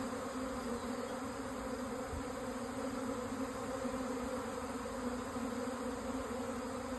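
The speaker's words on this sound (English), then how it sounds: "It's a lot of bees." A large honeybee swarm on a sunny day drones steadily around a nearby listener, a dense, continuous buzz of many wings with no voices.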